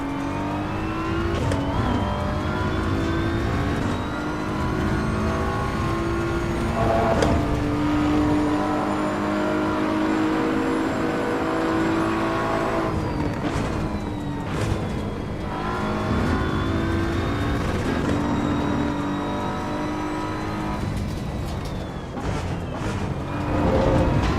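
A race car engine in the Assetto Corsa Evo racing game, revving high and loud up and down through repeated gear changes, with rising and falling engine tones, steady and close throughout with no talking.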